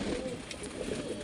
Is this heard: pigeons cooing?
yes